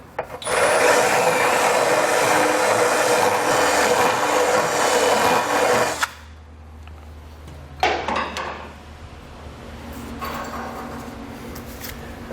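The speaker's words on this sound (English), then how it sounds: "since we do have some bare metal from grinding it a little bit" An angle grinder works bare metal while a Curt trailer hitch receiver goes onto a 2018 GMC Terrain. A loud, steady grind runs about six seconds and then cuts off, followed by two short, quieter bursts.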